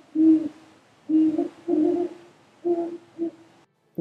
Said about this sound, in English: I hear them hooting tenderly to each other all throughout the autumn